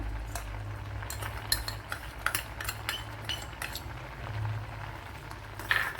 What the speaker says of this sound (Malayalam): ഇതിലേക്ക് ഒരു ഒന്നര ടേബിൾ സ്പൂൺ ശർക്കര എടുത്തിട്ടുണ്ട് അത് ചേർത്ത് കൊടുക്കുക